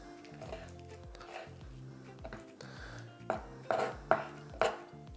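Knife cutting coypu meat fillets into pieces on a board, with several soft repeated chops that grow into four sharper, louder knocks toward the end.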